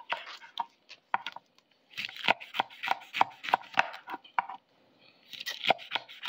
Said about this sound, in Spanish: ahora aquí vamos a estar picando ya los nopales